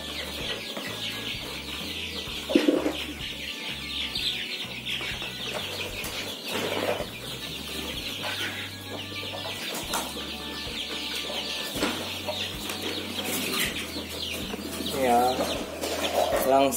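A backyard flock of chickens clucks and chatters busily while being fed, with scattered squawks over a low rhythmic background hum.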